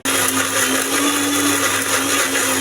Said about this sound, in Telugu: కొద్దిగా చింతపండు వాటరు, మళ్ళీ మిక్సీ వేసుకోవాలి.